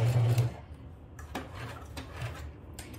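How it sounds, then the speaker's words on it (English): Sewing machine back stitching a bag seam, a short loud hum of the motor at first, then quieter clicking and rubbing as the fabric is handled, close up. "now I'm sewing, back stitch"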